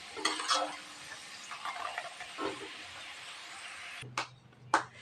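Cashew biscuit dough frying in hot oil, a soft continuous sizzle with a few stirring and scraping clinks of a utensil against the pan, fairly close and quiet.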